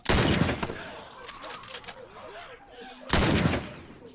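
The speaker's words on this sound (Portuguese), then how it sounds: "dei dois tiros no cara" Two loud gunshot blasts from The Last of Us, one at the start and another near the end, with quieter game noise and clatter between them.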